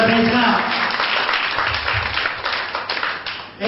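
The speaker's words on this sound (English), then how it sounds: "Palakpakan natin ang ating Panginoon" A church congregation at a Sunday service applauding, a dense, steady wash of many hands clapping together that holds at full volume throughout, with voices mixed into the crowd noise.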